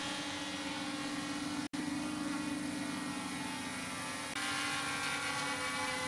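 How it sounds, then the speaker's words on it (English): A Holy Stone drone climbs with a steady, loud propeller whine and buzzing motor hum close by, holding a constant tone with one momentary dropout and a slight brightening near the end. "and the drone climbs."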